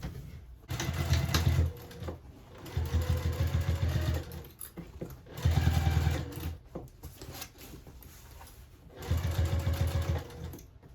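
A sewing machine stitches a tote bag seam at a half-inch allowance in four separate bursts of rapid whirring, each a second or two long, with short quiet pauses between them.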